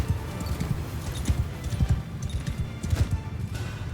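Many horses gallop in Mount & Blade II Bannerlord, a dense rumbling drum of hoofbeats during a battle, steady and fairly loud with faint background commotion.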